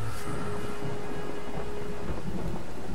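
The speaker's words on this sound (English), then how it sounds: "seeing as I'm walking in the rain" Steady rain pours with a low rumble of thunder in the video game Blues and Bullets, a continuous dense wash heard up close, with no talk.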